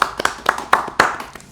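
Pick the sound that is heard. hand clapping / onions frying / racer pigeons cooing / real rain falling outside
hand clapping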